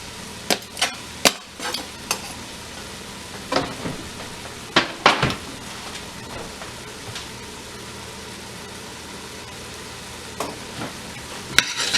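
Minced garlic stirred into browned ground turkey in a pot for chili, a constant sizzle under sharp scraping clacks of a utensil against the pan, clustered early and again near the end.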